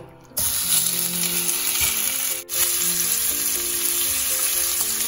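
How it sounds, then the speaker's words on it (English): Prawns fry in about two tablespoons of hot oil in a pan, a loud, steady, close sizzle that runs continuously with one brief dip and a few faint stirring sounds underneath. "I'm quickly going to fry my prawns here."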